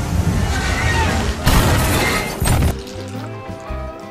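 A car wreck crash effect: a loud burst of smashing and crunching impacts, with a second sharp crash surge, then the noise cuts off abruptly into a quieter tail.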